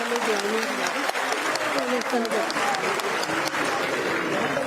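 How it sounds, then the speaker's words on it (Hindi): Sustained applause from the audience at a women's conference in Panchkula, a steady dense clatter of clapping at even loudness throughout, with a voice speaking over it. "जोरदार तालियां बजाएं।"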